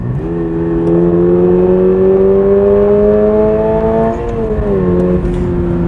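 A 2022 Subaru BRZ accelerates hard from a launch, its loud engine droning steadily upward in pitch inside the cabin and briefly dipping at a gear change before climbing again.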